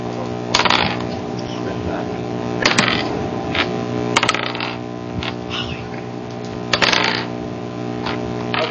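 Dice are rolled during an online Dungeons & Dragons game: four short, sharp clattering bursts spaced a couple of seconds apart, heard over a steady electronic hum.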